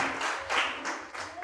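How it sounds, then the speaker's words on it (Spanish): Church congregation applauding in a broad, steady wash of clapping that swells and dips over a second and a half, with a voice faintly mixed in. "Denle un aplauso"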